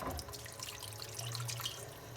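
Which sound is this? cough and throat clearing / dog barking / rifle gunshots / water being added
water being added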